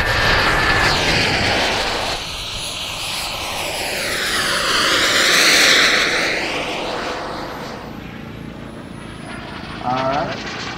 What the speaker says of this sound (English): F-18, faster on final. Nice, all right. Slow flyby